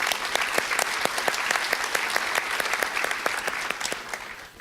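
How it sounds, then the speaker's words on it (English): An awards ceremony audience breaks into steady applause, a dense, even patter of many hands clapping that carries on without talk before tapering off slightly at the end. "let's clap for Tony"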